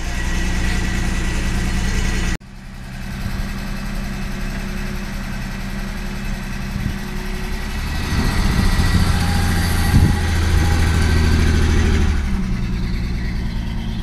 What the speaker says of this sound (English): You can hear that car, the engine really is strong.